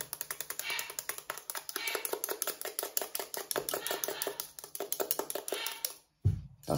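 A whisk beating homemade hair conditioner back and forth in a bowl, a fast steady run of light clicking strokes, close and fairly soft, ending in a short pause and a bump.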